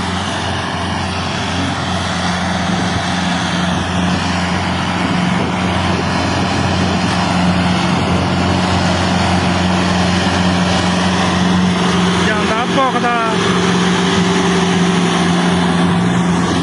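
A tractor engine pulling a trolley while moving soil, a loud steady droning hum with a constant low rumble throughout, close by and without speech.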